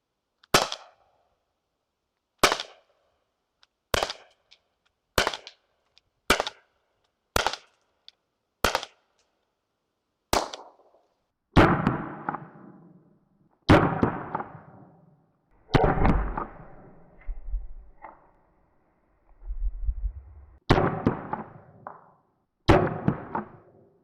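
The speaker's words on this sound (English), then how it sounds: "I'll shoot off a couple more rounds" A Byrna LE less-lethal launcher fires a steady series of about fourteen sharp, loud pops, evenly spaced at first, then later shots carry longer ringing tails and rattling impacts against a target.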